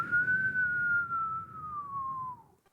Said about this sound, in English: And then I gotta whistle.